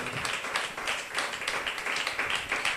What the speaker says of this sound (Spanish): Dele un aplauso de alabanza al Señor en esta hora.